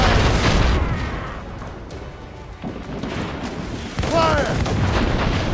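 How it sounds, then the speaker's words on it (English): Heavy ship cannons and incoming mortars boom during a naval battle in Assassin's Creed Rogue, with repeated loud blasts and rumbling bursts, a sharp surge near the end, and shouted voices mixed in. "Fire! Fire! Cannon range! Mortars incoming"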